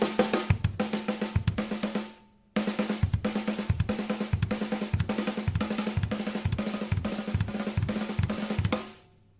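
Snare and kick drums playing a 4/2 pattern on a drum kit. The hits are steady, loud and close, with a brief pause near the start and a decaying ring at the end.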